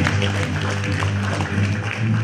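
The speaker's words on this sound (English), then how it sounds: "please give her your loudest round of applause" Steady applause fills a research symposium hall for a panelist, a dense, even wash of clapping held at constant loudness throughout, with a low hum underneath.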